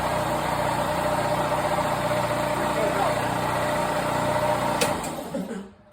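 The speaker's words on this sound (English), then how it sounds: "you can hear it still building up some pressure and that getting on there and causing the motor and the compressor to struggle a little bit" A Kobalt 60-gallon air compressor motor labors steadily as it builds pressure, a loud continuous mechanical drone with a steady hum, running close and alone before cutting off near the end.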